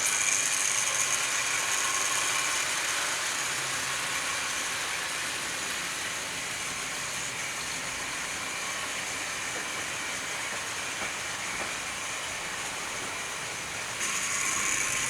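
A small model LNER V3 2-6-2 tank engine runs steadily with a continuous hiss and mechanical whir, nearby and even in level throughout, with no talking.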